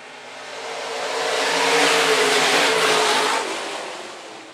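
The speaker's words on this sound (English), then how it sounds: "Number four, IMCA stock cars underway." IMCA stock cars racing on the dirt oval at Phillips County Raceway, a pack of engines roaring past as the loud rumble swells to a peak mid-way and then fades as the cars move off.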